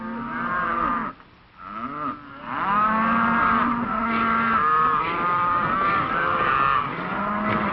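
A herd of beef cattle bound for the stockyards lows and moos almost continuously, several overlapping calls close by and loud, with a brief lull near the start.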